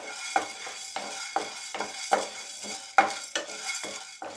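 Urad dal roasting in a pan for mustard chutney, with a spoon scraping and stirring in repeated strokes about every second, each stroke a close scrape over a low background sizzle.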